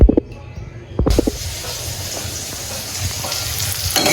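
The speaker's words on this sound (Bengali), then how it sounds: "আমি কিন্তু ভাজতে শুরু করে দিয়েছি, এখানে পেঁয়াজ মরিচ হলুদ লবণ দিয়ে দিয়েছি" Onion, chili, turmeric and salt fry in a hot pan, giving a loud, steady sizzle that starts abruptly after a few clattering bumps and continues alone to the end.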